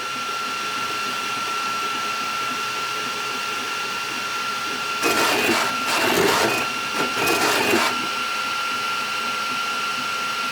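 A Flashforge Adventure 5M 3D printer runs with a steady fan hum and a high tonal whine, broken by three short bursts of harsh, rattling motion noise as the print head makes a violent move.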